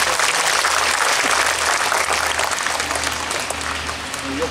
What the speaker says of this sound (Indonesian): Nasirun, kita beri tepuk tangan untuk beliau.